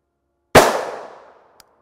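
A single sharp gunshot fired into NIJ Level IIIA soft body armor, a loud close crack with a decaying ring-out, followed by a tiny faint click.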